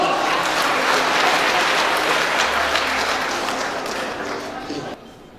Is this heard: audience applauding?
yes